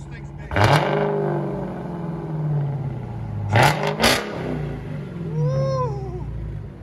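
A 2020 Dodge Challenger Hellcat Red Eye with a supercharged 6.2L Hemi V8 and dual exhaust with mid muffler blips its throttle in several sharp, loud revs over a low rumbling idle, with a whine rising near the end.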